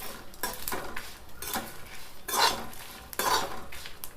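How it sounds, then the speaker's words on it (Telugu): Cumin seeds fry in a pan and are stirred with a metal spoon. Close, irregular scraping and clinking strokes sit over a faint, low sizzle. "జీలకర్ర వేసుకున్నాక ఇట్లా కొంచెం సేపు వేయించుకున్నాక బంద్ చేసుకోవటం"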